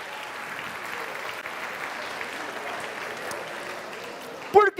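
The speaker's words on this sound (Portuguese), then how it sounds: "Quer aplaudir o Senhor?" A church congregation applauds together in steady, dense clapping that holds for several seconds, ending with a brief voice at the close.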